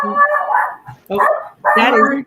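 A dog barks three times at close range, loud harmonic yaps separated by short pauses.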